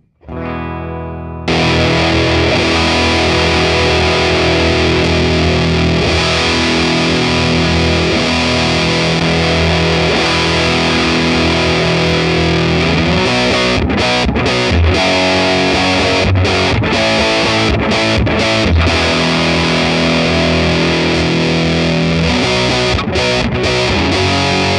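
Electric guitar played through fuzz pedals, an original EHX Big Muff and a JHS 73 Rams Head replica, giving loud, thick sustained distorted chords that ring continuously with a few short breaks between strums.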